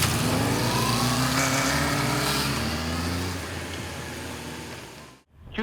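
Fully restored Honda CB400Four motorcycle pulling away, its engine revving loud and close with rising harmonic whine through the gears, then fading as it rides off, ending in an abrupt wind buffet.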